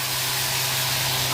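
Small mourala fish fry in hot oil in a pan, giving off a brief, steady, close sizzling hiss with no talk.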